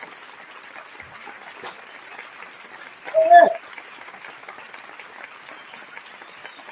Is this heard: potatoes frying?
no